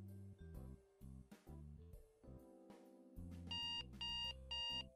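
A washing machine's end-of-cycle buzzer sounds a series of electronic beeps, loud and close. The first tones are low and choppy, then a repeating high tone comes three times. No one speaks.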